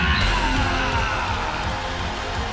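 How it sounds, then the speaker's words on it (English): A huge wrestling arena crowd in West Virginia roars for Kenny Omega's return, a dense sustained wash of cheers, whoops and yells that swells and stays loud throughout. "eruption for this huge crowd here in West Virginia for the returning Kenny Omega"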